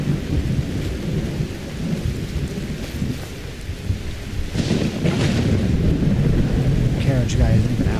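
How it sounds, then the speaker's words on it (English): Thunderstorm ambience from the Skyrim Climates of Tamriel weather mod: steady heavy rain hiss with low rumbling thunder throughout, swelling into a louder booming roll about halfway and staying intense to the end, with no talk. "Climates of Tamriel echoes its booming storm noises into my"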